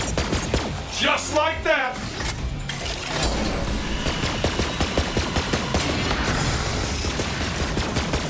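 Borderlands 3 gunfire rattles in rapid, loud bursts of automatic shots and booms, continuing as a dense fusillade, while a voice talks briefly over the early part.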